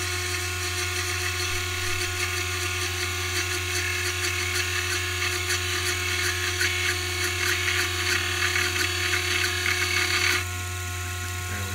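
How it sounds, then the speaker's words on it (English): A Sherline milling machine making a plunge cut gives a steady, high, close motor whine with faint cutting chatter that stops abruptly near the end. "I like making plunge cuts on the Sherline."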